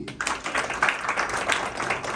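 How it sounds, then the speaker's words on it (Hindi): Audience clapping at a PTI workers convention in Manchester, a hall crowd applauding in a steady, fairly faint patter of many hands throughout. "भरपूर तालियां होनी चाहिए।"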